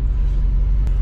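A road grader rolls past on a snowy road in deep cold, a steady heavy low engine rumble holding close and loud throughout, with a brief hiss near the end.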